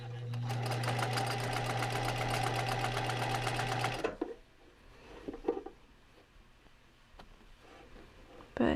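A sewing machine stitches fabric loudly and steadily for about four seconds with a rapid, even needle rhythm, then stops, leaving quiet room noise and a few soft handling sounds.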